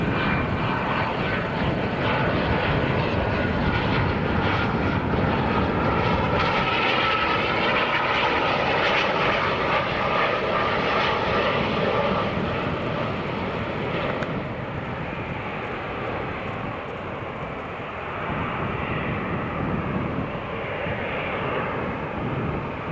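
An EasyJet jet airliner at Newcastle airport gives a steady, loud engine roar and broadband rumble that holds for the whole stretch, slightly easing midway, with no voices.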